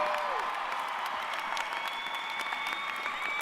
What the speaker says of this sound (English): Oh, stop all that clapping.